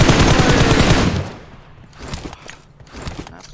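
Automatic gunfire from a first-person shooter game roars as a dense, loud burst for about a second, then scattered fainter shots and clatter follow in a quieter stretch.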